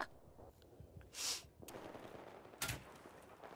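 Crossbow bolts fired in an XBOW video game match, two sharp broadband shots about a second apart standing out over a low, steady game background, fairly close and loud.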